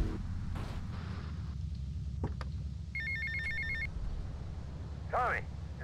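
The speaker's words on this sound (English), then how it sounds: "Phone call." In Grand Theft Auto Vice City, an in-game phone rings in one short electronic trill over rumbling game noise, followed by a brief rising tone, with no talking.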